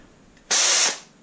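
Electric drill whirring in a single loud burst of about half a second that starts abruptly and tails off, heard close in a quiet room with no talk.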